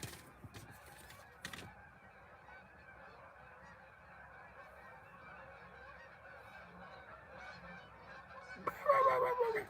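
Geese honk nearby, first as a faint, scattered background chorus, then as louder, clear honks rising at the end, over steady outdoor ambience and a few knocks.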